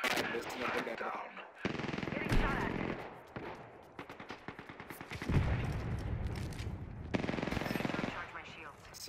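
Sustained automatic gunfire from a team-based shooter video game, loud and dense rapid bursts with brief gaps, layered over battle noise with faint voices.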